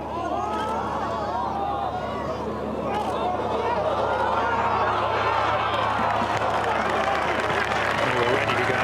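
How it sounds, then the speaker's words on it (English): At the 2016 Irish Open on the 16th green, a golf gallery roars and cheers after a putt, a broad sustained swell of crowd noise and applause holding steady throughout, with voices audible within it. "God, if this goes in, there'll be a roar."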